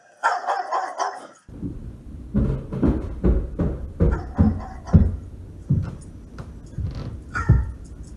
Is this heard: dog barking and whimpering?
yes